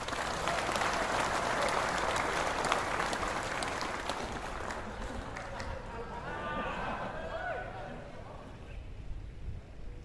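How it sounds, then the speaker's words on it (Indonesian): Loud, dense applause from a gathered audience at a briefing, sustained for several seconds, then thinning into a murmur of voices and scattered sounds. "Tepuk tangan dong."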